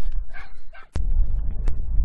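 Dogs bark and whimper in short yelps and whines, fairly close, followed by a thump and handling noise, at a motorhome stop in Gamlingay, Cambridgeshire.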